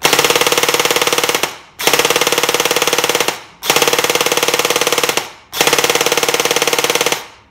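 Gel blaster firing full auto on an 11.1v lipo battery, four loud, rapid sustained bursts of about 1.5 seconds each with short gaps between, close and alone.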